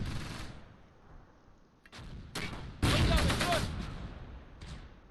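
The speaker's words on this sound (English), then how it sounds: "Those are worse shots." Gunfire in the Close Combat war game, set around Cassino in June 1944, with bursts of shots and machine-gun fire over a battle din, loudest in a dense burst mid-clip and then trailing off.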